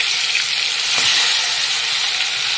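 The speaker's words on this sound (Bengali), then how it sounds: "এবার আমি মাছগুলো ছেড়ে দেবো।" Fish sizzles loudly and continuously in hot oil in a wok, a close, dense frying hiss that swells slightly midway, with no one speaking.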